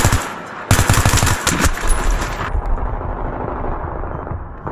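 Video game gunfire in the shooter Metro, with loud rapid automatic bursts near the start that roll into sustained, echoing fire and rumble.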